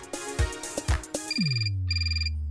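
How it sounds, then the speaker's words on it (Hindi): A phone ringtone rings out loud and close in a comedic police-station radio show setting, a bright electronic melody in two repeated bursts following a few sharp knocks, with no talk over it. "फोन बजा।"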